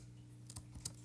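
A few quiet key taps on a keyboard or calculator keypad while an equation is entered, soft isolated clicks in a near-silent room.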